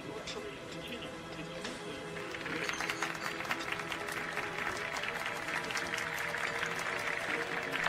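Applause rises in a recorded session at the United Nations, starting as a faint murmur and swelling into sustained, dense clapping from a large room that holds steady to the end.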